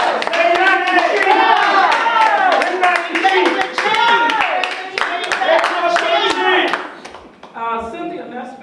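An audience at a borough council meeting claps loudly in a dense, sustained burst of applause, with voices shouting and chanting over it before the clapping thins out near the end.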